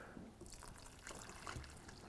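Water poured by hand onto a sand erosion model, trickling and splashing softly and continuously at low level, fairly close, with no talk.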